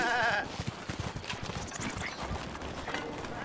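Goat bleats from Breath of the Wild, a short wavering cry at the start followed by steady clip-clop hoofbeats and rustling footsteps in the game world, with no talk.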